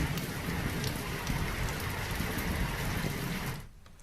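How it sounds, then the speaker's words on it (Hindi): Heavy torrential rain driven by strong winds, a dense, loud, steady hiss of downpour that eases off abruptly near the end. "तेज हवाओं के साथ हुई मूसलाधार बारिश"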